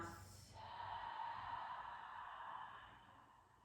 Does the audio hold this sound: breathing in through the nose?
yes